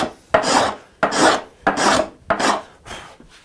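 A toothing plane scrapes across a wooden board with deep tear-out, making five loud, rasping strokes, each about half a second long, with short pauses between them.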